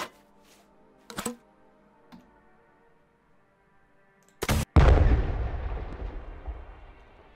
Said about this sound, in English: Look at this RPG.